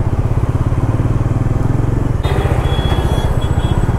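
Motorcycle engine running steadily up close with a throbbing low rhythm, its pitch shifting slightly midway as the bike rides on; no talking.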